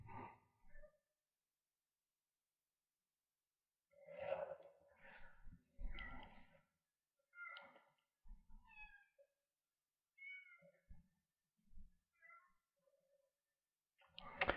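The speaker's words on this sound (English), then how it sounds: "so I'm just going to let her meow." A cat meows repeatedly indoors, a long series of close, loud, drawn-out meows and yowls separated by short pauses, heard alone with no talking.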